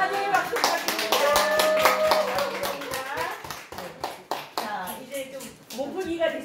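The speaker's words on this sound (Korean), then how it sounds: "환영의 박수 부탁드립니다." A church audience gives welcoming applause, with distinct, fairly close hand claps in a quick, irregular rhythm mixed with voices talking, including a child's, that continue as the clapping thins out.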